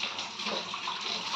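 Homemade lassi poured into a pot for desi rabdi makes a continuous splashing, trickling stream, close and steady throughout with no talking.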